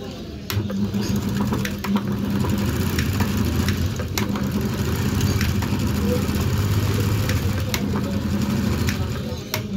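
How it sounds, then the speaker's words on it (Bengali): A motor-driven coil winding machine for sewing machine motors runs steadily, winding copper wire with a continuous low hum and faint ticking, moderately loud and unbroken throughout. "মেশিনে তার গুটিয়ে নেব।"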